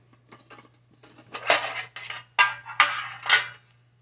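An old military lunch pan, a metal mess kit, is opened and handled, with its lid and inner pieces coming apart. Several close metallic clanks and scrapes land in separate bursts, the loudest toward the end, with no talking.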